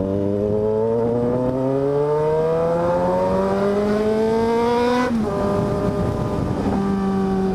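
Yamaha XJ6 motorcycle with a modified two-outlet exhaust revving, engine pitch climbing steadily for several seconds, then dropping sharply and settling into a lower roar, loud and close.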